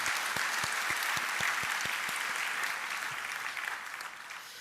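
A church congregation applauds during a Sunday worship service, a broad steady patter of many hands filling the sanctuary, with a few distinct nearby claps keeping a beat before the applause slowly fades toward the end.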